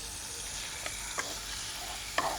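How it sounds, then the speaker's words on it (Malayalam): Prawns fry in hot ghee in a pan with a steady, quiet sizzle, broken by a few sharp clicks and scrapes of stirring. No one speaks. "ഇതിലേക്ക് നമ്മുടെ പരത്തി വെച്ചിട്ടുള്ള ചെമ്മീൻ ചേർക്കണം."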